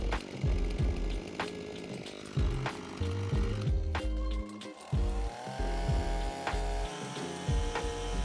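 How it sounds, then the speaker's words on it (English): A chainsaw cuts through a grapevine trunk during remedial surgery on the vine, its engine revving up and down in repeated bursts, loud and close. "it makes it a lot easier for the chainsaw operator to make the second cut, so the trunk just falls out"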